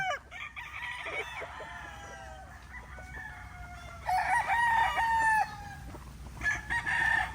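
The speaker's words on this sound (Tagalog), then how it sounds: "Ito yung mga nakatali natin mga young stags dito." Several young roosters (stags), tethered outdoors, crow in rough, cracking calls, one after another, some nearer and louder, with clucking and a light rain patter underneath.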